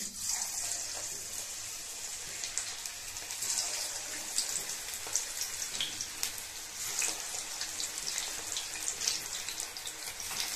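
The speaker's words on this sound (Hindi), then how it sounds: "अभी हम इसको तेल में फ्राई करेंगे पकौड़े के शेप में" Vegetable pakoras fry in hot oil over a low flame, giving a steady, fairly faint crackling sizzle with scattered pops throughout and no voices.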